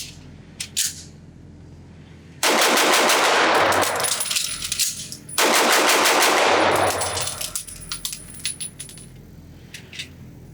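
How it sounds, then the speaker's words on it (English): A Masterpiece Arms DS9 Commander, a 2011-style pistol, fires two fast strings of loud, sharp shots at a range, with single shots before and after and clicks of handling between. "So I'm really hoping I can shoot this thing fast with this awesome trigger"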